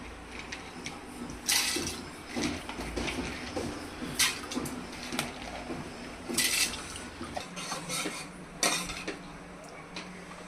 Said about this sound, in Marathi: डाळ स्वच्छ धुवून लगेच डाळ आपण टाकूया त्याच्यात